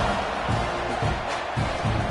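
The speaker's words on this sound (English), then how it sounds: "this crowd is buzzing after that last score" Stadium crowd noise from College Football 26 buzzes steadily as a dense, continuous roar, with faint swells throughout and no clear voices standing out.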